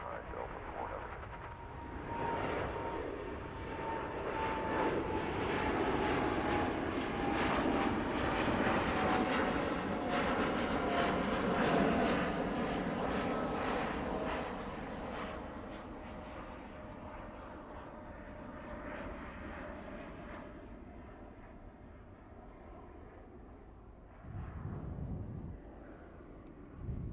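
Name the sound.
Kenya Airways Boeing 787 Dreamliner jet rolling for takeoff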